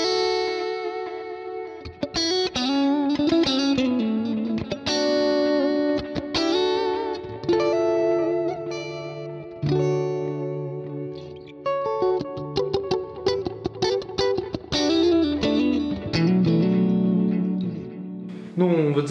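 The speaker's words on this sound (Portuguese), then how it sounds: "Aqui no 2A, no preset de cima, eu tenho o mesmo clean, só que já tá com reverb e delay." Electric guitar played through a clean BIAS FX2 preset with reverb and delay on a TS MEGA pedalboard: strummed chords and picked notes ring out with echoing tails and brief pauses for about twenty seconds.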